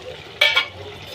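Shrimp already fried in oil, poured with its oil into a pot of boiled bottle gourd and stirred: a brief burst of sizzling and scraping lasting about a fifth of a second, then quieter kitchen background.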